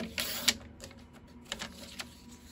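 A paper trimmer slices off a strip of cardstock: a few quiet, sharp blade clicks and scrapes spaced over a couple of seconds, with no talking.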